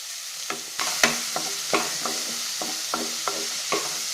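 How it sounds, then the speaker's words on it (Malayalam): Chopped capsicum and onion sautéing in a pan over medium flame, with a soft sizzle under repeated scraping stirs of a spatula at an uneven rhythm, close and clear, with no voices. "ക്യാപ്സിക്കവും സവാളയും കൂടെ 3-4 മിനിറ്റ് നന്നായിട്ട് മീഡിയം ഫ്ലെയിമിൽ വെച്ച് വഴറ്റിയെടുക്കണം."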